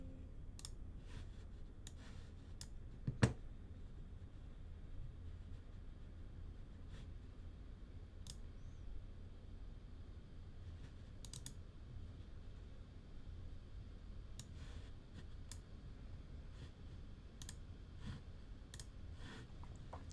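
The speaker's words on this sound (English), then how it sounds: "You can click anywhere and you can hit spacebar to play." Mouse clicks while editing audio in Audacity, faint sparse clicks scattered across a quiet background, with one slightly sharper click early on.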